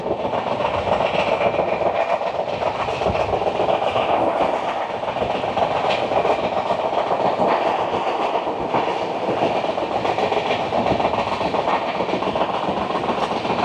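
Kandari Express rolling on rails between Howrah and Uluberia: continuous loud, even rumble and rattle of the moving train with faint rhythmic wheel clatter throughout.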